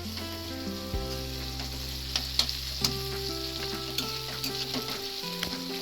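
Carrots sizzle steadily in a pan as they are stirred, with faint scraping clicks over a continuous frying hiss and a low hum in the background.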